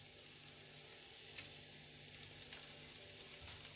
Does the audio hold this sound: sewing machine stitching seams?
no